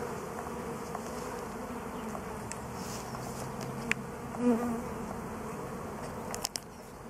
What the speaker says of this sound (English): the returning bees are trying to form a cluster